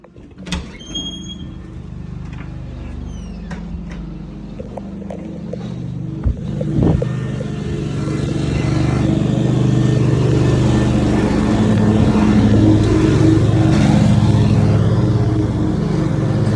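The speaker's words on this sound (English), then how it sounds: "It's a truck, for sure." A truck engine starts and runs, a loud low rumble that builds after a few seconds of clicks and knocks, then holds steady and rises as it revs, close by.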